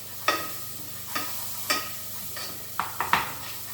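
Onions and garlic sizzle in a pan under a constant frying hiss, while a utensil scrapes and clinks against the pan in several scattered strokes, close by.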